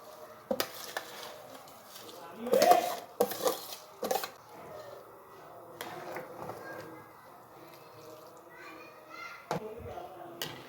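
Soaked rice poured into a pot of boiling water for matar aloo pulao, with clattering pot and utensil knocks and a brief pouring rush amid kitchen noise, while someone talks.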